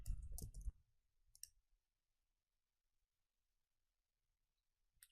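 A computer mouse clicks on a send message button in a quiet room, a few sharp isolated clicks spread apart after a short burst of noise at the start.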